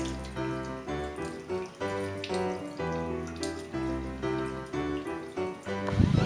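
A bathroom tap runs into a sink during tooth brushing, a steady close stream of water with rhythmic pulsing breaks, likely from the brushing, and a splashier burst at the end.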